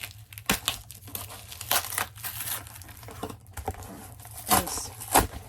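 Packing tape tearing and crinkling off a taped-up comic mystery box, a run of sharp rips and crackles with short pauses between pulls, close and moderately loud.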